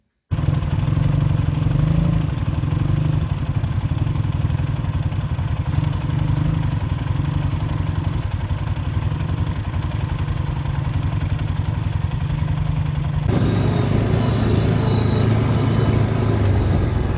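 Motorcycle with a loud hot-rod style exhaust idling close by, a steady low clattering rumble that holds for the whole stretch with a slight shift in tone near the end.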